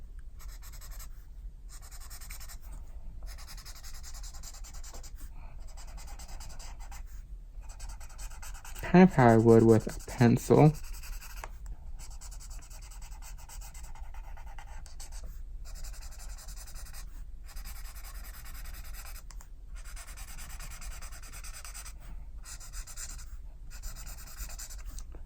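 Arteza Everblend alcohol markers drag across paper in soft, scratchy strokes with short pauses as hazelnut brown is layered to deepen areas, while someone talks quietly over the coloring.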